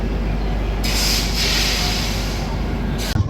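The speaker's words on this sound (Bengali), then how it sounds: "Bharat Gaurav tourist train" A Bharat Gaurav tourist train passing close by, with a loud continuous rumble and clatter of wheels on rails and bursts of high hissing squeal over it.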